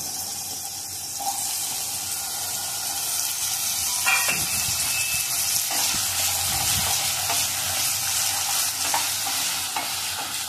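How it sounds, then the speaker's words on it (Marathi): Potatoes and onions fry in a pan with a continuous close sizzle. Stirring scrapes and clatters run through it, with a few louder knocks in the middle. "त्यामध्ये मी टाकणार आहे बटाटे थोडे तळून घेणार आहेत कांद्याबरोबर"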